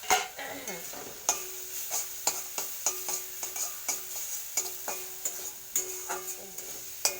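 Coriander leaf paste is stirred and fried in a pan, with a steady series of sharp spoon scrapes and taps against the metal over a soft sizzle, close up and with no talking.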